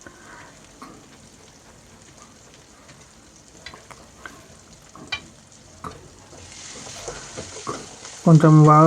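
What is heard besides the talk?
tomato frying in oil while stirring with spoon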